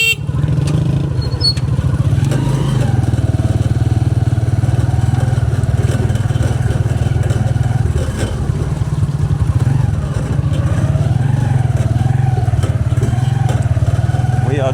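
Motorized tricycle carrying a passenger down a street in Angeles City, Philippines, its small engine droning loud and steady close by throughout, with some rattle and clatter over the road.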